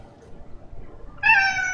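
A pet cat lets out one clear, close meow near the end after quiet room noise, loud and drawn out.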